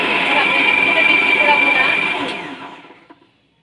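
A blender whirs loudly and steadily while making homemade mayonnaise, then winds down to a stop near the end with a few faint knocks.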